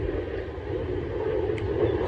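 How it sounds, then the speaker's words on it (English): A fixed-wing airplane passes near an airport, a steady low rumbling roar that holds at a constant loudness and swells slightly toward the end, with wind buffeting the microphone. "and the airplane just flew away."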